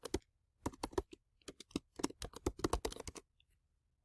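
Quick bursts of typing on a computer keyboard, crisp close key clicks in uneven clusters with short pauses between words, quiet and alone.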